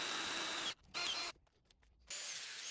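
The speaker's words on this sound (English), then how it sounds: "Here I'm drilling up the holes. These are 8mm holes for M8 bolts." A power drill bores 8mm holes in steel during a drum sander build, giving a steady whine that comes in separate bursts with short pauses and a longer quiet gap between them.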